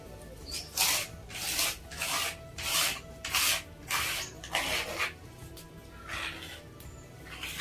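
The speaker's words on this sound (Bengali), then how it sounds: "আজকে একদিন ফার্স্ট টাইম আমাকে মশলা বেটে দিচ্ছে" Spices are ground by hand on a grinding stone, with a steady run of rasping, rubbing strokes back and forth, each lasting about half a second, close and moderately loud.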